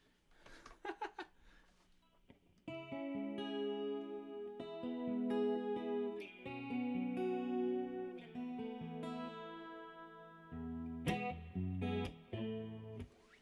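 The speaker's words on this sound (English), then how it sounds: "Chorus and a little bit of reverb." An electric guitar plays sustained notes and chords with a shimmering, wavering chorus tone and a light reverb tail, fairly quiet.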